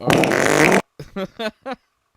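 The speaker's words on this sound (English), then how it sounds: "Fart sounds." A loud, broad farting burst lasting most of a second, followed by three short rubbery fart-like blips in quick succession, all played as comic sound effects.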